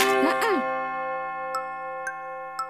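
Clock striking with a ding-dong chime in a children's nursery rhyme song, a sung tone sweep followed by three clear, evenly spaced bright chime strikes ringing out over a held musical note.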